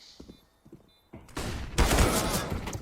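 Burst of rapid gunfire in CS:GO during an ESL Pro League match, loud and dense, starting after a quieter stretch and building into a sustained volley at the end.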